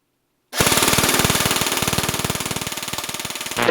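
A Cyma Standard M4 10.5 M-LOK airsoft AEG with a built-in tracer unit and mosfet fires a sustained full-auto burst of BBs, a loud, close, rapid mechanical rattle that starts abruptly after a brief silence.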